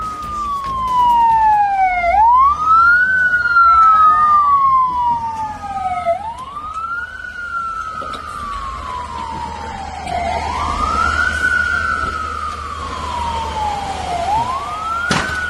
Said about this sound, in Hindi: ईरान की तरफ से अभी भी मिसाइल हमले हो रहे हैं, जिसकी वजह से इजराइल के कई शहरों में खतरे का सायरन बज रहा है।